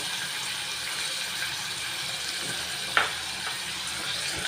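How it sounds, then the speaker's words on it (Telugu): Potatoes, green peas and chopped onions frying in a pan give a soft, continuous sizzle at low level, with a single sharp stirring clink near the middle and faint scraping afterward. "ఇవన్నీ కూడా మనము కొద్దిగా 10 నిమిషాలు మనం వేయించుకుందామండి"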